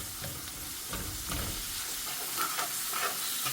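Garlic dropped into hot oil with browned onions, a dense crackling sizzle with a few soft stirring bumps, close and steady over a short stretch without speech.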